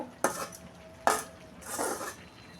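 A spoon scrapes and clanks three times against a cooking pot while spices with salt, turmeric, chili, cumin powder and a splash of water are stirred, each stroke a short metallic rasp over a faint background hiss.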